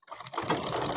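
A sewing machine stitching trouser fabric, heard as a short, close burst of rapid mechanical clatter that starts after a brief click and runs steadily for about a second.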